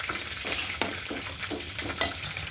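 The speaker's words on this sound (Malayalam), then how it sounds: "ചെറിയ കടുക് പൊട്ടിച്ചൊഴിക്കാണ്." Small mustard seeds crackling and popping in hot oil for tempering, a steady close sizzle broken by sharp bursts and spits.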